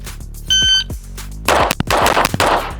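Shots from a TTI Combat Master pistol fired at a range, heard as a few sharp loud reports with a tonal beep-like ring in between, followed by a dense burst of rapid cracks.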